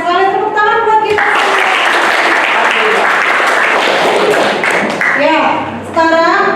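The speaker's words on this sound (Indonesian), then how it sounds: "tepuk tangan buat kita" A group of children in a lesson claps in a steady burst of applause lasting several seconds, framed by a voice speaking before and after.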